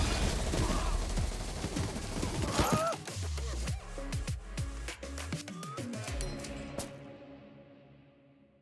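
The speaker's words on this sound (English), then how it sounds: "Those final moments were absolutely nutso, with gunfire erupting everywhere" Video game match gunfire in dense bursts of rapid shots and impacts, loud and chaotic for several seconds before thinning out and fading to quiet.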